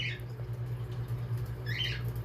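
Two brief high chirping bird calls sound in the background over a steady low hum.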